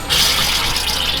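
Water gushing out the bottom of a filter housing as pressure is released, a brief steady hiss and splashing rush, close and fairly loud.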